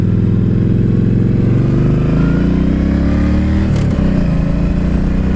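Yamaha Stryker factory chopper motorcycle running steadily while being ridden, a loud, close, continuous rumble with the engine note easing slightly near the end, no talking.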